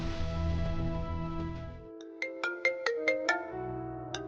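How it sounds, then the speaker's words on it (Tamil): Music cuts off and a phone ringtone starts in a Tamil TV serial, with a quick run of bright, clear chime notes that step upward, then a pause before a lower tone returns. "இந்த ஆள் ஃபோன் பண்றான்"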